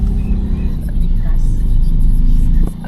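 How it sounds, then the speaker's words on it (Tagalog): Dense road traffic near a business strip in a Philippine barangay, with a steady low rumble of car engines passing close by and filling the whole stretch, loud and continuous before tapering off at the end. "Grabe traffic mga business ay."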